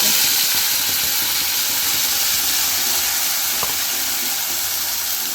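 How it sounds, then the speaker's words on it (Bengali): Spice paste poured slowly into hot mustard oil with nigella seeds in an iron wok, giving a steady broadband sizzle and hiss that stays loud and continuous throughout, with no talking. "এবার এটা ঢেলে দেবো আস্তে আস্তে"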